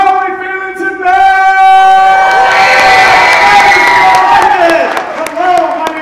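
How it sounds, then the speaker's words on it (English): Crowd at a Late Night with Chucky show during Halloween Horror Nights at Universal Studios Hollywood cheers and whoops loudly, swelling midway and holding for several seconds before easing off. "that is not enough applause for the star of our show"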